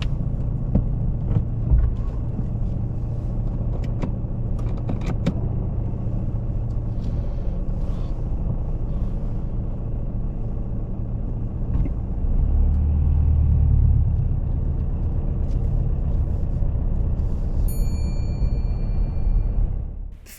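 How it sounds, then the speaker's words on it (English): A car reversing slowly back along the curb for about two car lengths during a practical driving test, its engine a steady low rumble throughout with a slight swell partway through, no talk over it. "Robert, what I'd like you to do now is to reverse back for 2 car lengths, keeping a reasonable distance from the pavement."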